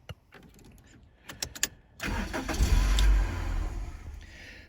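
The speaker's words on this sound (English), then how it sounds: "The vehicle will not start." A Toyota Corolla fails to start after an ignition switch replacement: several dash clicks and chimes come first, then the starter churns and cranks for a couple of seconds without the engine catching.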